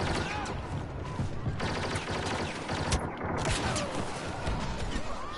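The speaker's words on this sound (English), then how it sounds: "The aiming with this gun's a little weird, but I do like how fast it shoots" Rapid blaster fire from a Star Wars Battlefront match, dense bursts of quick shots layered over explosions and chaotic battlefield noise, loud and continuous with brief dips, a voice faintly mixed in.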